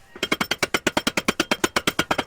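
Steady, evenly spaced metallic hammer taps driving a bearing into a KTM 690 motorcycle swingarm, about eight per second, close and moderately loud with no talking.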